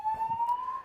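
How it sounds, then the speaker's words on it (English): A fire alarm under test sounds a single steady electronic tone that rises slightly in pitch, loud and continuous, with faint background murmur. "testing our fire alarms here."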